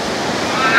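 Sea waves wash onto a beach in Dubai: a steady, loud rush of surf mixed with gusting wind noise against the microphone, and no voices.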